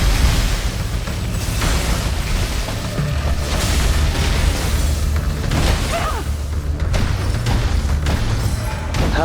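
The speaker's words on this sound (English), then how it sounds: "Oh right, that explosion." Explosions and booming blasts from an action video game, with rumbling low-end impacts and whooshing debris sustained steadily throughout at a loud, dense level with no break.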